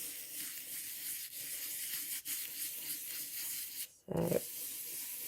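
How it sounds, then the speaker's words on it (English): Steady scratchy rubbing over a cut paper card, worked into its small heart-shaped holes during card crafting, with a louder tap near the end; quiet, close and continuous, with no talk. "So give it a good tap and a good rub."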